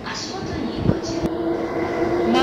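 A commuter train rolls into platform 2 at a station, its rumble and squealing wheels rising in loudness, with brief hissing bursts and a steady drone building toward the end.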